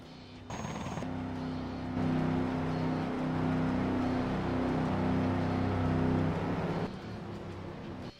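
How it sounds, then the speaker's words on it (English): Race trucks in a racing video game roll down pit road at Cleveland airport behind a pace truck, a moderate engine drone swelling and easing over several seconds before cutting off abruptly. "Field making their pit stop here as the pace truck keeps rolling."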